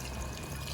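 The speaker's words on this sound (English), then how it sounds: "And then we're just going to pour. I'm using this Italian Merlot right here," Italian Merlot red wine is poured over braised short ribs in a pot, a faint, steady liquid stream trickling and splashing with no voices over it.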